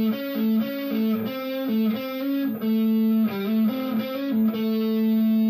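Distorted electric guitar plays a rock-and-roll lick built on the major third over a mixolydian groove in A, sustained bent notes in a steady phrased rhythm, loud and close with no voice.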